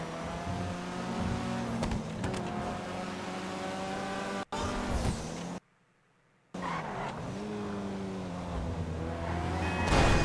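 Car in Grand Theft Auto Online, with engine revving and repeated tire squeals and skids, loud and close, broken by a short gap of silence midway before the driving resumes.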